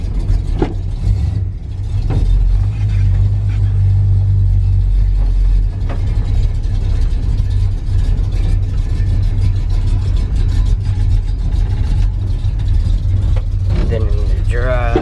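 A pickup truck engine rumbles steadily as the truck is put in reverse, with a low drone that stays loud and continuous throughout. Faint clicks and shifting noises sit over the engine, and a brief voice is heard near the end.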